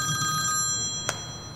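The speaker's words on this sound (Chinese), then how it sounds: "他来电话了。" A telephone rings with a steady electronic bell tone, one clear ring pattern close by and indoors, heard alone without speech.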